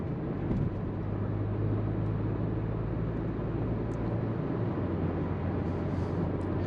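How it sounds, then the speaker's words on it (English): Steady road and tire roar from inside a 2021 Porsche Macan S on large wheels and tires while cruising on the highway, a constant low rumble with no talking. "get a little bit of road noise from the larger tires and wheels combination"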